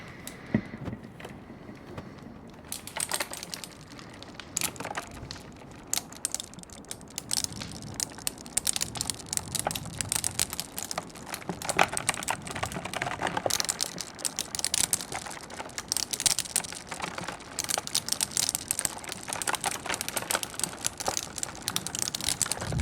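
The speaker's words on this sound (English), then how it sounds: "This is a Cherry MX Blue keyboard." Steady clicky typing on a Cherry MX Blue mechanical keyboard, close and crisp, with rapid irregular clacks that carry on throughout after a short quieter start.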